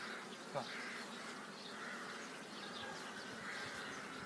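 Honeybees on a hive frame while nucleus colonies are stocked for queen rearing give a soft, steady buzzing that holds throughout, faint and close, with no voices.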